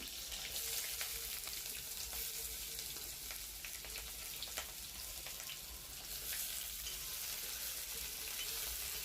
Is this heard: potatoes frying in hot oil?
yes